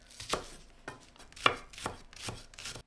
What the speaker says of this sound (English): Slice 1 shallot.